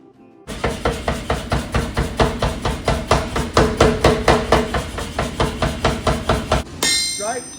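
Blacksmith's hammer striking hot steel, a rapid, even series of loud, close metallic blows for about six seconds before stopping abruptly.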